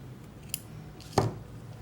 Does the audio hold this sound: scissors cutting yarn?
yes